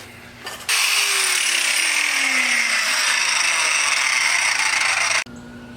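A power grinder grinds down metal on a car engine part during a Chevrolet Caprice LS engine swap, a loud steady whine that holds for several seconds and then cuts off abruptly.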